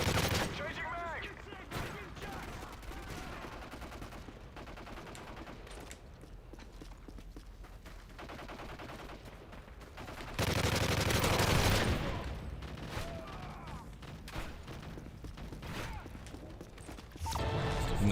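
Gunfire in Modern Warfare 3 Survival mode: dense, continuous bursts of automatic shots over most of the clip, with a louder stretch in the middle, plus speech mixed in.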